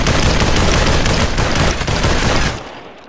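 Gunfire from the VR battle royale game Population: One crackles as a dense, continuous automatic fusillade for about two and a half seconds, then cuts off. It sounds loud and close, with no talking.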